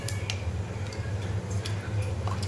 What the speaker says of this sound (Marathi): त्याला व्यवस्थित तडतडून देऊया. आवाज आला पाहिजे राईचा आपल्या.